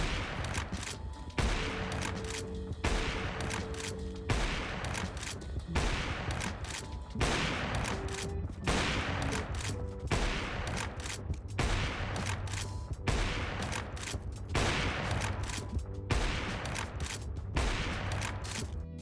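Rapid sequences of sharp gunshots from AWP quickscoping practice in Counter-Strike 2, sniper shots spaced a second or two apart over a constant game background hum, crisp and close with no voices.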